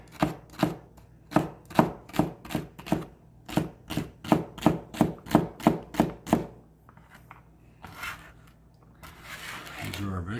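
A knife chops ham and celery on a cutting board for Japanese fried rice (chahan), giving about eighteen steady, close, loud strokes in a brisk even rhythm before it stops, followed by a short scrape and some rustling.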